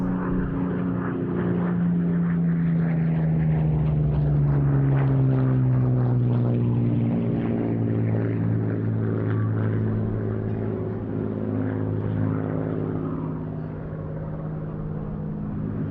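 A WWII monoplane fighter flies past at an airshow, its propeller engine droning loud and steady for the whole stretch, pitch sliding slowly as it passes.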